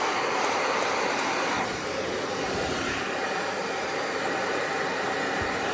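A hair dryer runs on full heat while long doll hair is brushed dry, producing a loud, steady airy roar throughout with no speech.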